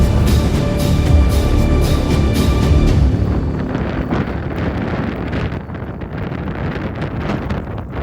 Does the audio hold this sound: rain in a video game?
no